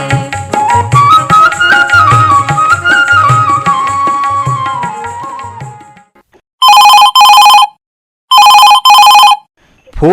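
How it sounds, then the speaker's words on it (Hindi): A telephone rings twice in loud, repeated electronic bursts on an AIR Raipur Chhattisgarhi-song phone-in radio show, following music that fades to a brief silence. "फोन करो छत्तीसगढ़ी गीत सुनो।"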